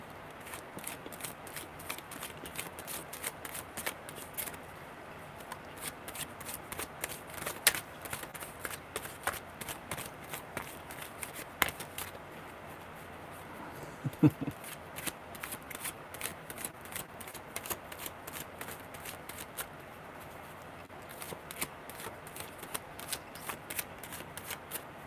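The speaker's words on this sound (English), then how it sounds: "tell me when to stop shuffling." Tarot cards are shuffled by hand in quick, crisp riffling bursts, close and fairly quiet, with brief pauses between runs and no voices.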